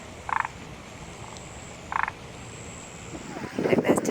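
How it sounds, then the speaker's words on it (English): Two short, rattling frog croaks a second and a half apart over a steady outdoor hum near water in Shirakawago, Japan, followed by rustling noise at the end. "I can hear a frog though"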